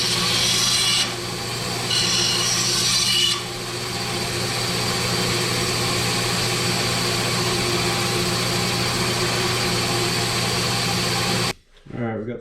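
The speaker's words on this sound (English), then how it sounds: "So I'll bring you guys over to the bandsaw and show you." A bandsaw cuts a kerf into a wooden axe handle, a loud, steady machine whir with rasping blade noise that runs continuously before stopping abruptly near the end.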